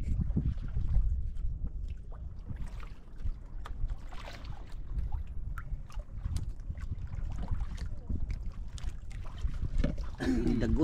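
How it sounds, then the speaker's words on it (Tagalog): Engine drone of a neighbouring fishing boat at sea, a steady low rumble under wind buffeting on the microphone, with people talking intermittently over it. "Ingay ng kabilang bangka oh."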